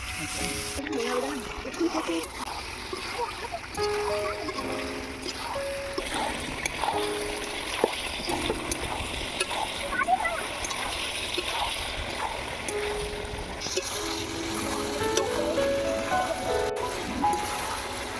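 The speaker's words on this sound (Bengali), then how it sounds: "অল্প একটু জল দেবো" A small amount of water trickles and splashes into a pan of rohu fish curry cooking with kohlrabi and potatoes. The sound is a soft, continuous pour under low kitchen noise, with a voice speaking.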